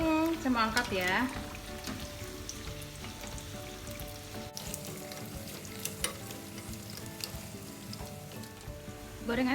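Potato curry pastries (pastel) deep-frying in hot oil, a steady close sizzle and crackle throughout with some bubbling, beneath kitchen background sounds and a brief voice at the start.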